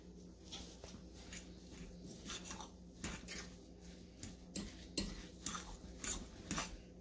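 Cauliflower pizza crust dough being mixed by hand with a fork in a bowl, soft irregular scrapes and light clinks, faint and close, with no talking.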